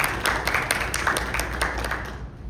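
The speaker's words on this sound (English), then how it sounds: "Give a round of applause for Representative Leonard Spencer." Moderately loud audience applause fills a county property tax town hall, made up of dense overlapping claps that fade out near the end.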